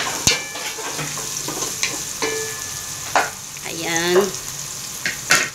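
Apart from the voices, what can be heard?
garlic, onion and ginger frying in pan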